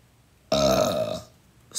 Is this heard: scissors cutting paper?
no